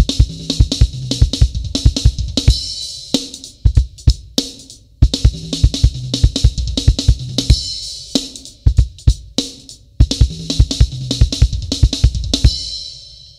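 A drum kit chop pattern mixing kick drum with fast hand strokes on snare and cymbals, loud and close, in repeating bursts of rapid hits separated by short gaps, with no voice over it.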